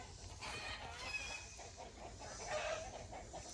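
Chickens cluck in a farmyard, with scattered calls and faint crowing at a moderate distance over a steady outdoor background, no one speaking.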